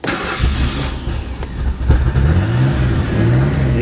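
A 1990 Ford Thunderbird engine cranks and catches, then revs up and down steadily, loud and close, with no talking.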